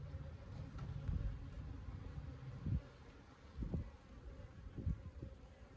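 Honey bees hum softly around an open hive during an early-year inspection outdoors, a low steady drone broken by a few muffled knocks and bumps from handling the frames.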